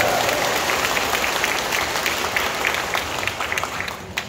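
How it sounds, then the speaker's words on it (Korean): Audience applause fills a church concert at a Catholic parish, a dense steady clapping from a sizeable crowd that carries on for several seconds and eases slightly toward the end. "아, 박수."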